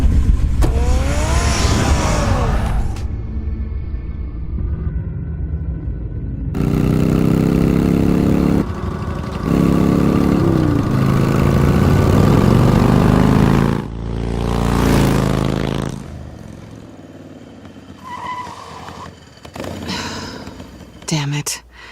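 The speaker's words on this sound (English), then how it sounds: "Get the car ready, Alfred." Car engine running in the Batman Telltale video game, a loud continuous engine drone that shifts in pitch and level across the span, mixed with other game sounds.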